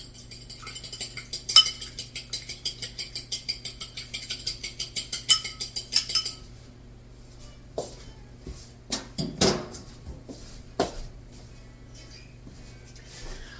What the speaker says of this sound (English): I'm going to beat my egg. Make my little egg wash.